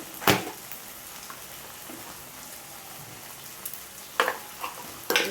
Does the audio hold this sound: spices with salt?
yes